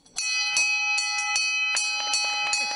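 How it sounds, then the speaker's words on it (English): A patient rings a bell at a proton therapy institute, celebrating the completion of radiation treatment. Several bright, clear metallic strikes sound close up in an uneven rhythm, each ringing on with sustained tones. "for them, ringing that bell means they are finished their completed therapy"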